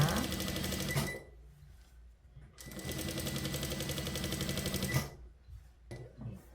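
A sewing machine runs in two long bursts, sewing long 5 mm gathering stitches on an elastic-waist skirt. The motor whirs steadily for a few seconds, stops, then runs again, with quiet handling sounds in the pauses.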